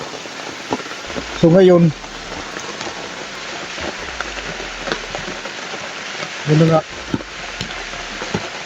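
Steady heavy rain hisses throughout on a mountain, with a person talking briefly over the downpour a couple of times.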